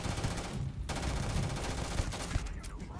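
Rapid automatic gunfire from the video game Starfield rattles continuously and densely at close range, with a brief dip before it resumes, and no talk over it.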